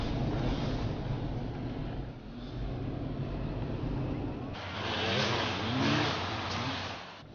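A car accelerates hard during a police chase, its engine roaring steadily and rising in intensity, with faint voices under the noise.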